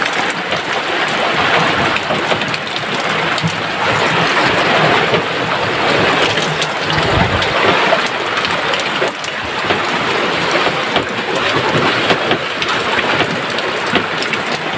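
Heavy rain pours at sea aboard a boat, with a little wind, a loud continuous hiss of drops on surfaces that carries steadily with slight surges and no voices.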